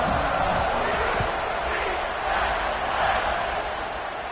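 College football stadium crowd roars at a kickoff, a dense steady wash of cheering voices that swells slightly and holds, loud and distant with no clear single voice.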